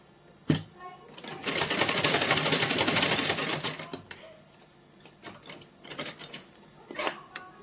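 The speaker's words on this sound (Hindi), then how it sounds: "इस तरह से घुमाते हुए 2 राउंड में सिलाई लगा लेंगे, ताकि निक्कर की सिलाई थोड़ी मजबूत हो जाए।" A sewing machine rapidly stitches the seam of small doll's shorts, a dense mechanical whirr for a few seconds followed by shorter bursts and clicks, close and clear.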